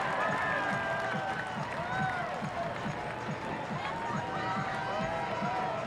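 The home crowd cheers Josef Newgarden's IndyCar win at the Music City Grand Prix in Nashville, a dense, steady roar of cheering and rhythmic clapping heard under talking.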